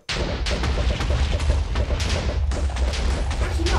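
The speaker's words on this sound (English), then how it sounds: "with the dynamite" A chain of TNT explosions in Minecraft booms continuously and loudly, with dense, overlapping blasts rumbling for several seconds without a break.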